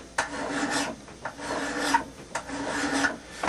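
Close, rhythmic rasping strokes of a hand file working along the blade edge of a hand axe, several slow passes with short pauses between them.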